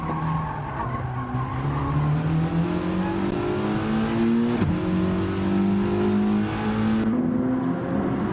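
Race cars in a racing video game drone loudly and continuously, their engine pitches climbing and dipping as they accelerate and brake hard, with a brief skid near the middle.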